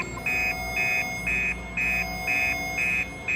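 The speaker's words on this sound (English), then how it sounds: "all the containment alarms started going off" Containment alarms at a research base blare in a regular pulsing pattern, a loud electronic tone switching on and off about twice a second over a steady background hum.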